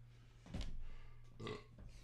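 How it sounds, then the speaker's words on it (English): A burp let out away from the microphone during a beer-tasting session, two muffled belching bursts, the first stronger and the second shorter, somewhat distant and alone with no talk. "I'm trying to burp away from the mic."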